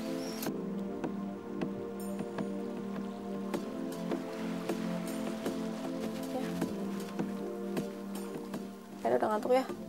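Steady rain patters on a surface during a rainy spell, with scattered drips and taps throughout, rising to a brief louder rustle near the end.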